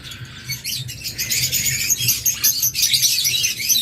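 Lutino opaline Fischer's lovebirds in a bird shop give off a dense, continuous chatter of high, bright chirps and squeaks, fairly close and steady, with a low background hum underneath.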